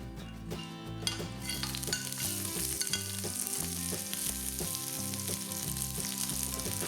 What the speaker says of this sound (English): Fry all these ingredients till it's fragrant.